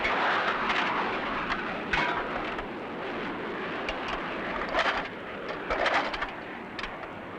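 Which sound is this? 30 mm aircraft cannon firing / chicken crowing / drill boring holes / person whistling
30 mm aircraft cannon firing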